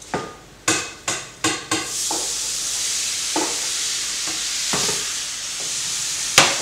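Tomatoes tipped into a pot of sautéed courgettes for ratatouille: several sharp clattering knocks, then a steady loud sizzle with occasional stirring scrapes.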